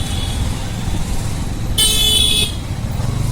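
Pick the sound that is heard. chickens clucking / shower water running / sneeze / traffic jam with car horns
traffic jam with car horns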